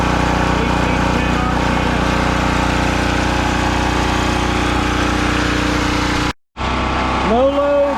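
A Champion generator engine drones loudly and steadily under full load at 60 hertz, then cuts out briefly and resumes with a short tonal whine near the end.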